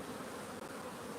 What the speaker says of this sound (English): These bees is actively trying to get me, right?